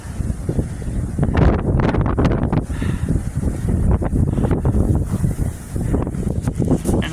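Strong wind roars and buffets the microphone during a Midwest snowstorm, a constant gusty rumble with fluctuating bursts and no speech.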